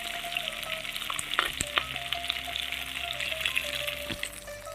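Katla fish heads frying in oil, a steady close sizzle with a few crackles and spits over a constant hiss, no talking.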